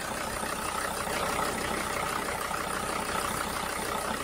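A car engine idling with a steady, even mechanical hum, fairly close and constant for a few seconds.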